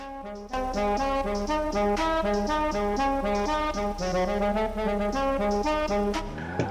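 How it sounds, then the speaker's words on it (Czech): A custom musical car horn plays a loud melodic tune of quick, rhythmic tones, sounding clear and close for several seconds before cutting off, with no talking over it. "Nejlepší troubení, co jsem kdy slyšel."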